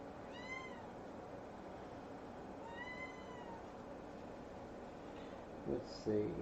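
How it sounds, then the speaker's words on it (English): A house cat meows twice in clear, drawn-out calls, with a fainter third meow near the end, over a steady low room hum, followed by a couple of soft thumps. "My cat's meowing."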